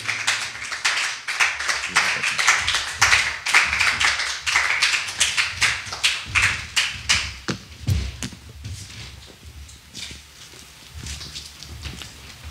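A church congregation applauding in worship, rhythmic group clapping in quick steady bursts, loud and close, fading somewhat toward the end.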